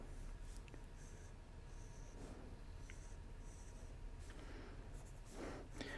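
Pencil strokes sketching a cartoon character drawing, soft faint scratchy swipes on paper, repeated in short bursts at close range, with no talking.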